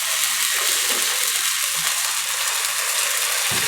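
Batter poured onto a hot oiled pan sizzles steadily for a few seconds, a loud even hiss close by with a faint scrape near the end, no voices.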